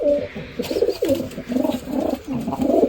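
Pigeons coo repeatedly inside a pigeon loft during the hot summer season, several birds overlapping in soft, rhythmic, throaty phrases close by, with faint rustling between calls.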